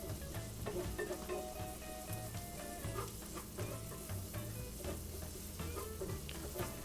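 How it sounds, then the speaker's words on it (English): Garlic butter sauce stirred in a pan, a soft continuous sizzle with steady scraping and clinking of the utensil, close but low in level, with no talking. "So I'm just going to keep on stirring this around."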